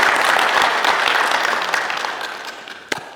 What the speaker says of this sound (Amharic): ለራሳችሁ በደንብ ሞቅ አድርጋችሁ አጨብጭቡ እስኪ ለራሳችሁ